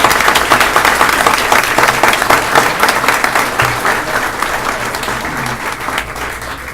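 Dense, steady applause from a school board meeting audience honouring state champions, loud and close, sustained for several seconds and slowly tapering.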